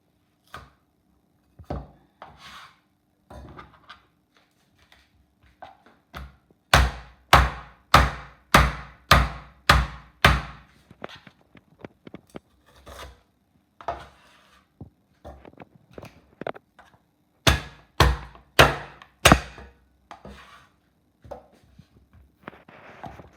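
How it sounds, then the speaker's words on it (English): Ginger is crushed for black vinegar ginger soup with a run of hard, rhythmic thumping blows, first scattered and then in quick loud bursts, close by in an otherwise quiet kitchen. "the next step is to crush the ginger"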